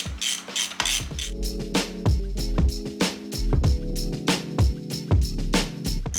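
Ratchet wrench clicking as nuts are lightly snugged onto turbo manifold studs of a Mazda Miata NB, in quick repeated bursts of close, crisp ratcheting strokes with brief pauses between.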